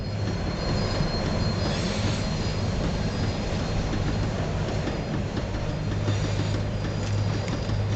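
A tram slowing down in the video game Max Payne 3, a continuous heavy rail rumble with a sustained low hum and faint metallic wheel squeal throughout.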